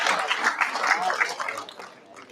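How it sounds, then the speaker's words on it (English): Brief applause from an audience in an auditorium at a national camp, a burst of many hands clapping that tapers off within a couple of seconds. "Please give them a big round of applause."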